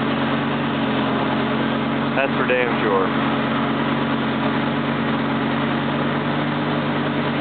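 A deep, steady idle from the exhaust of a 2008 Lamborghini Gallardo sports car rumbles throughout, with someone briefly speaking over it partway through.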